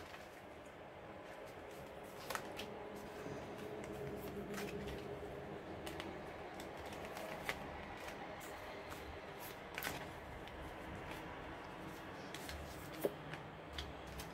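Tarot cards being cut and handled at close range, with soft papery shuffling and quiet scattered slaps of the deck over a faint background hum; no one talks.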